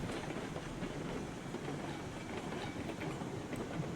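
Train rolling along track in the RailRoads Online video game: a steady, continuous rumble with faint rhythmic clatter of wagons, constant in loudness throughout, no talk.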